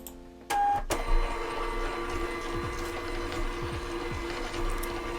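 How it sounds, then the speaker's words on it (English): A Zebra GK420D label printer prints shipping labels, starting with a sharp mechanical clunk and then whirring steadily with faint ratcheting feed ticks, close and alone. "I've got a label printer, I have a Zebra GK420D, and print."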